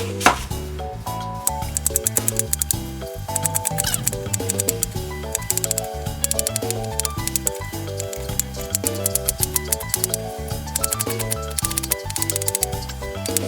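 A knife chopping onion on a cutting board, quick regular taps repeating throughout over steady background music.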